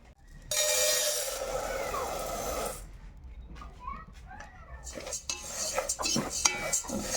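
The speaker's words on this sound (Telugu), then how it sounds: "పచ్చివాసన పోయేంత వరకు పెసరపప్పును వేయించుకుంటే టేస్ట్ బాగుంటుంది" Moong dal pours into a pan and is roasted while a utensil stirs and scrapes against the metal, with clinking and light rattling under a nearby voice.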